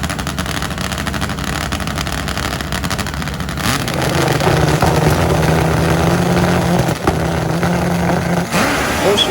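Turbo and nitro drag motorcycles racing side by side down a drag strip, a loud close engine roar that swells into a sustained high droning pass, with a crowd and track din underneath.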